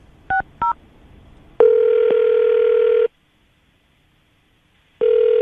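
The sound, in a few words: telephone being dialed, dial tone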